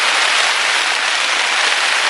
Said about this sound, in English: there's absolutely nothing you can do about the rain